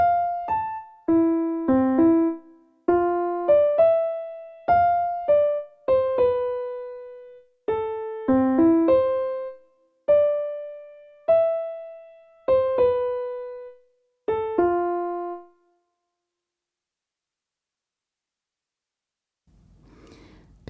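Plucked, bell-like melody generated from a piece of artwork, about a dozen short phrases of clean decaying notes separated by brief gaps, moderately quiet, followed by several seconds of near silence.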